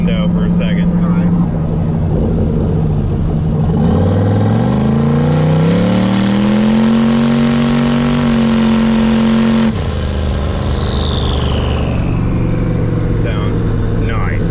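A turbocharged LS engine in an OBS Chevy 4x4 truck revs loudly up and down, a deep rising and falling roar close by, with people talking over it at times.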